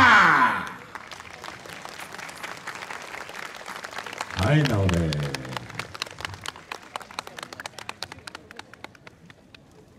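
An audience applauds and claps after a yosakoi dance performance outdoors, a broad wash of clapping that thins into scattered rhythmic claps, with a voice speaking over it near the start.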